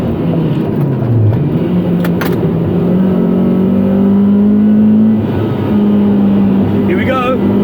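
A Honda Accord accelerates on the track at Sydney Motorsport Park, its engine note loud and droning as it climbs in pitch through the gears, while a voice talks over the engine throughout.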